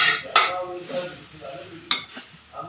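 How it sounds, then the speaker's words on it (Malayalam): Tomato and green pea curry being stirred in a pan, with a few sharp scrapes of a utensil against the metal over a soft sizzle, close and fairly quiet. "തക്കാളി ഒന്ന് ഒടിഞ്ഞ് വരുന്നത് വരെ മിക്സ് ചെയ്തെടുക്കാം."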